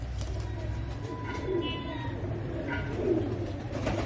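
Royal Teddy pigeons in a breeder's loft give low, soft cooing calls, repeated a couple of times close by, alongside a steady background hum.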